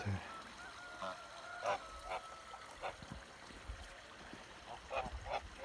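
Domestic geese of the Kholmogory breed honk in scattered bursts outdoors, several calls close together over a low, steady outdoor background.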